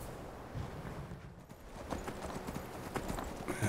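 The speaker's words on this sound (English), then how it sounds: "I think that's Angie's horse" Horse hooves clip-clop at a steady walking pace in Skyrim Special Edition, fairly soft and close, with no voices.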